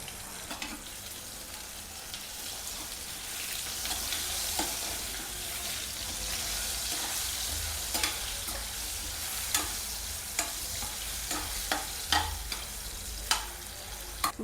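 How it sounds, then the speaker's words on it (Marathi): Potatoes fry in a pan with a steady sizzle, while a spoon scrapes and stirs in sharp, irregular knocks that grow more frequent toward the end. "बटाटा आपला फ्राय होतोय"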